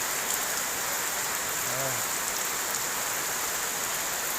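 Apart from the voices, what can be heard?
heavy rain falling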